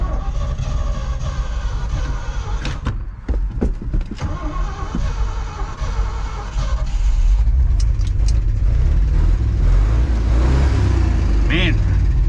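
A 1979 Ford F-250 pickup's engine runs close by, a steady low rumble that swells louder and fuller partway through, with people talking over it.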